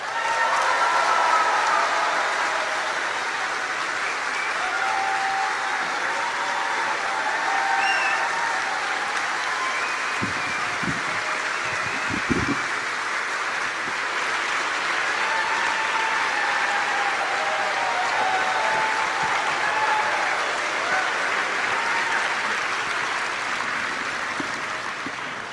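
A large audience gives Greta Thunberg a standing ovation, steady sustained applause filling the hall from start to finish, with cheers rising now and then above the clapping.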